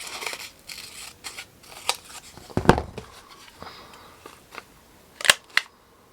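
Scissors cutting paper pages in half, a few sharp close snips and clicks scattered irregularly over light rustling.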